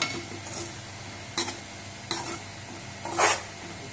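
Dried shrimp (sukhat) roasting with salt in a pan, a spatula scraping and stirring in a few distinct strokes over a low, dry sizzle, close and fairly quiet.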